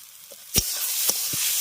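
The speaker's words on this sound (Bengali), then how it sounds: "এবার এটাকে খুব ভালো করে কষিয়ে ভেজে নেব আর জলটা একদম শুকিয়ে নেব" Salted bottle gourd frying in a pan as its water cooks off, a steady bright sizzle with a few sharp clattering stirs of the utensil against the pan, close and loud, no talk.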